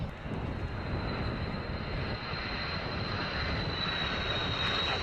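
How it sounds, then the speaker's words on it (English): An aircraft engine drones steadily and close while the plane slows to 150 knots on the downwind circuit at 1,000 feet, a continuous dense roar with a thin high whine over it and no speech. "Slowing the aircraft down to 150 knots."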